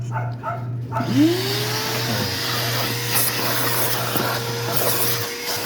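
A vacuum cleaner starts up and whines steadily at close range while cleaning a car interior, a constant droning hum running the whole time.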